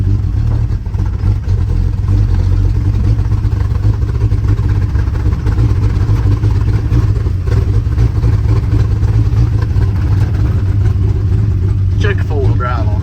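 A 1973 Jeep J2000 engine runs roughly and unevenly, a loud, steady low rumble close by that continues throughout with faint rattles near the end.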